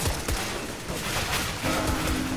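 Gunfire in the video game CS:GO, a continuous loud barrage of overlapping shots and game effects filling the whole moment, with no clear talk over it.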